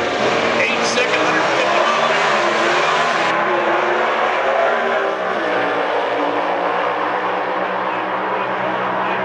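426 Hemi Cuda and Dart factory Super Stock drag cars launching at a race, with loud roaring engines and tire noise that recede as the cars pull away.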